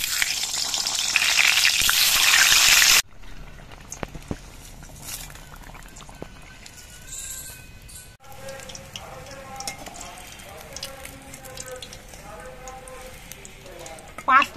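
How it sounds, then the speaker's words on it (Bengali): Eggplant fries in white oil in a kadai, a loud sizzling hiss at first that drops to a softer crackle with stirring clicks, as a person talks over it. "আলুটা ভেজে নেওয়ার পর এবার আমি ভাজব বেগুন ভাজা।"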